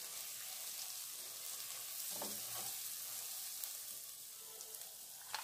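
A spice mix for beef haleem is stirred in a pan with a faint, steady frying hiss and a couple of soft scraping strokes near the middle.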